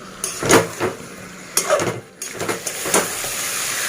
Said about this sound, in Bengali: তো চিকেনটা দিয়ে এবার আরেকটু কষাবো পুরোপুরি তো চলো এটা কষাতে থাকি